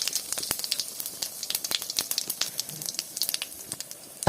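Crackling, popping sizzle of spice paste frying in a pan with dried red chillies for a coconut chicken dish, close and continuous with sharp irregular spits.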